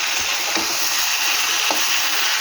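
Fish head and dal frying in oil in a pan for a Bengali mug dal dish, giving a steady broadband sizzle with a couple of faint stirring scrapes, close and continuous with no talk.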